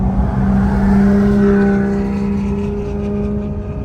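At a car rally in South Florida, a nearby car engine holds a steady, droning tone that eases slightly in the final seconds, with no talking.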